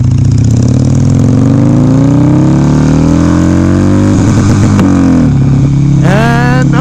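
A Harley-Davidson Sportster engine revs loud and close, climbing steadily in pitch before hitting the rev limiter and stuttering, then dropping back toward idle.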